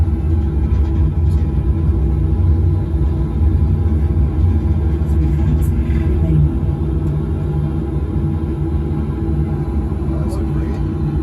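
A light aircraft's engine roars loudly and steadily through takeoff and gear retraction, a dense close rumble heard from inside the cockpit, with voices talking over it.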